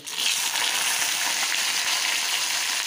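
Eggplant and potato pieces fry in a pan, a dense, even sizzling hiss that stays close and steady throughout with no voices.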